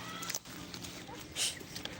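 A farmyard chicken gives a few soft, short clucks amid rustling household background noise, fairly quiet and close, with faint human sounds nearby.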